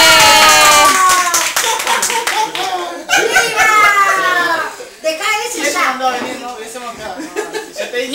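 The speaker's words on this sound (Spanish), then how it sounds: "Un aplauso para Lilo." A small group claps for a man named Lilo in a lively casual gathering, with fast hand claps mixed with children's voices, laughter and chatter throughout.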